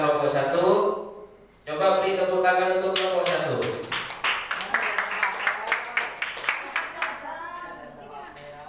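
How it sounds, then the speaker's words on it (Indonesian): A classroom group gives a round of applause after a teacher speaks; rhythmic, fairly even clapping builds in and continues for several seconds, then fades as speech resumes. "Coba beri tepuk tangan untuk kelompok satu"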